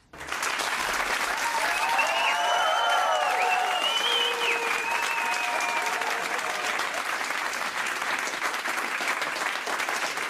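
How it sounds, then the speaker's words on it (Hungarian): Audience applause at a Hungarian cabaret show, a sustained wave of clapping from a large crowd that rises quickly and continues steadily throughout, with faint voices mixed in. "27 percet vágtunk le a tapsból"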